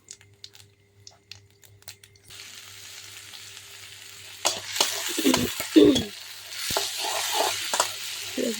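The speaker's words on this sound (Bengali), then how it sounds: "এই যে আলু ভাজা নিছি, হালকা করে ভাজছি।" Potatoes fry lightly in a pan, at first quiet with faint clicks, then a steady sizzle swells midway, with bursts of stirring and scraping near the end.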